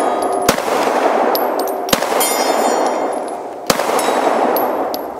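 Sharp, loud gunshot cracks from a Glock 26 pistol fired outdoors at targets such as tombstones, three separate bangs over steady background noise with no talk.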